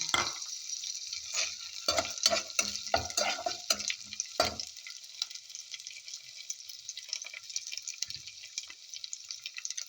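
Chicken gizzards and pieces of chicken sauté in a pan, giving a close hiss. A burst of clattery stirring runs for the first few seconds, then settles into a quieter steady sizzle with no voices.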